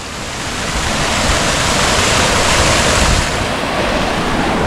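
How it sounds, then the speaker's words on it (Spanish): Water from a mountain fountain in the Sierra de las Nieves, Spain, rushes and splashes in a steady, loud, continuous stream, with no voices over it. "Esta fuente lleva agua todo el año"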